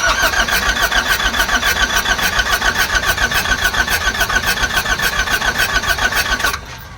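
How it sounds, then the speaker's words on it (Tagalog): A Nissan NV350 van's YD25 diesel engine cranks steadily without catching, a fast rhythmic starter churn that stays loud and even for about six and a half seconds, then cuts off abruptly into quiet. "may reaksyon naman ang makina pero ayaw pa rin aandar"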